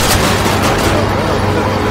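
Heavy gunfire in a World War II Call of Duty mission, dense continuous shots and booms filling the whole clip at close range and high volume.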